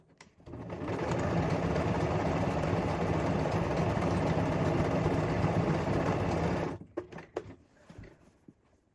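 A sewing machine stitches a thrifted pair of Levi's jeans with white thread, running at a steady, close whir for about six seconds before stopping, followed by a few light handling clicks.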